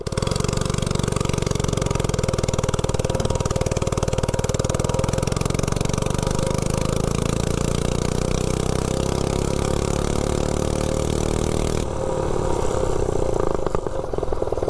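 Mini bike engine running without an exhaust, a loud, raw, buzzing bark that holds at high revs and climbs steadily before dropping off abruptly near the end, close to the microphone.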